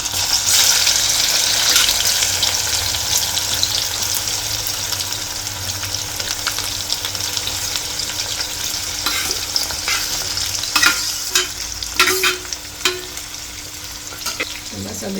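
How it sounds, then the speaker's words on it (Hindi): Amla and carrots are stirred in hot oil in a pan after the gas has been switched off. A loud sizzle fades gradually while a spoon scrapes and clanks against the pan in irregular strokes near the end, and no one speaks. "अब हमारे ये जो आंवले और गाजर हैं वो इसमें डाल दें।"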